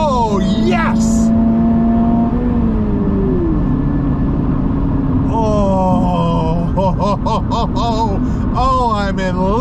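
A 2023 Toyota GR86 with a six-speed manual revs hard, its engine note climbing in repeated rising sweeps that grow busier toward the end, with a voice heard over it at times.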